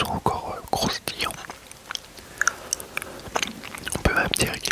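A crunchy snack, left out for five days yet still crisp, is bitten and chewed close to the mic in a run of sharp crunches and softer chews, with quiet whispering in between.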